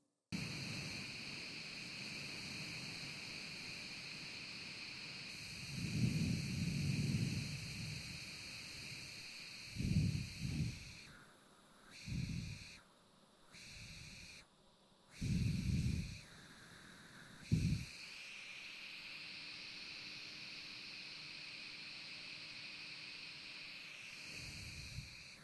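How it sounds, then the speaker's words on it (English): A Redmagic 7S Pro gaming phone runs its built-in cooling fan, giving a faint, steady high-pitched whine and hiss that continues throughout, with a few brief rustling bumps and handling noises in between. "please be the judge on the Redmagic 7S Pro cooling fan noise"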